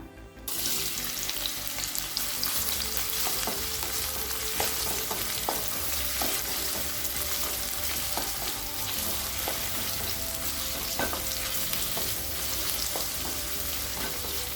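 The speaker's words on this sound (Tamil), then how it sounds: "வெங்காயம் நல்லா வதங்கிடுச்சுங்க." Two sliced onions sizzle and fry steadily in hot oil for a chicken gravy, with occasional stirring clinks of a utensil against the pan, close and continuous.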